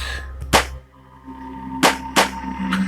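Several sharp gunshots crack out in an irregular sequence in a video game, Upiorne Akta 2: one shot, a pause, then a quick pair and a softer final shot, over a low hum.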